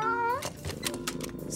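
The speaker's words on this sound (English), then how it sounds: "A black cat across our path." A cartoon cat gives a short meow, a single rising and falling cry close up over background music.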